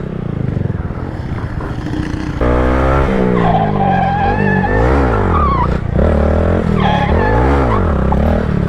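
A Honda Grom motorcycle skids while trying to drift, its engine revving loudly in rising and falling sweeps with tire scrub, close and continuous over several seconds.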